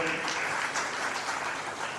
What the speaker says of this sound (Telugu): చప్పట్లు కొడదాం అందరం.